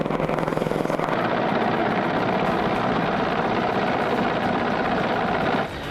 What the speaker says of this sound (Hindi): बर्फीली सतह पर हेलीकॉप्टर उतरता है